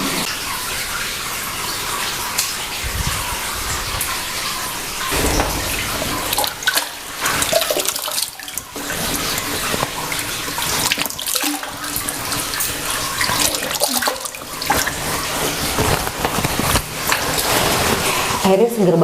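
Water from a well inside Gua Penganten cave splashes continuously at close range, a dense, rushing wash that fills the space, with occasional people talking over it.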